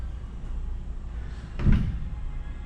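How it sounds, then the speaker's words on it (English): A folding door system on a solar sunroom product being opened: a single brief thump and slide in the middle against a quiet room hum. "we've got a similar folding type of a door system"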